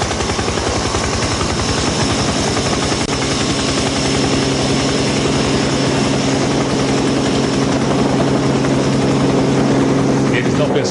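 A helicopter carrying a TV news camera operator drones steadily and loudly throughout, its rotor chop and engine whine forming a continuous close wash of noise.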